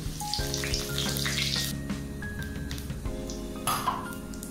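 Cinnamon, green cardamom, bay leaf, chilli, dried red chilli and cumin seeds frying in hot oil, a steady close sizzle with clinks of a metal pan and spoon, no voices.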